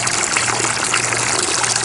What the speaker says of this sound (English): That's the water coming out of the sump